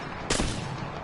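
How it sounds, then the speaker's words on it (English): A single Longbow sniper rifle shot in Apex Legends, one sharp loud blast with a short fading tail, standing alone over a steady low game background. "I forgot how bad the longbow is at firing."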